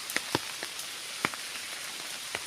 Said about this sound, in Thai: ฝนตกแต่เช้ายังบ่ย่าเนาะฝนนี่ก็ได้